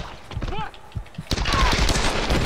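Rapid bursts of gunfire from the video game Tomb Raider crackle loudly, a fast volley of shots filling the second half after scattered earlier pops, with a player's voice chattering over it.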